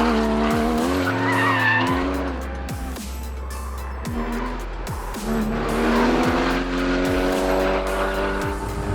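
A Porsche Cayman GT4 lapping the Lausitzring racetrack: loud engine notes rise and fall through gear changes, with repeated sharp tire squeals and skids as the car corners hard, continuous and close.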